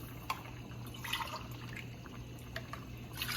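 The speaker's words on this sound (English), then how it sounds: "we want to add in more of our water" Water pours steadily into a pot for a beef shell-noodle soup, with tomato bits left in it, splashing and trickling at a low, even level with a few brighter drips.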